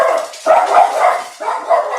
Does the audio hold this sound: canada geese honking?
no